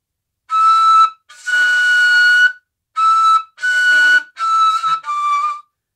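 Ney flute played on a high mi note with the head tilted, giving six breathy whistling tones in separate phrases, some short and some held, steady and close with no talk.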